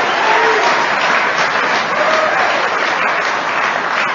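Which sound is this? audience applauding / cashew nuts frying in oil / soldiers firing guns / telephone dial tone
audience applauding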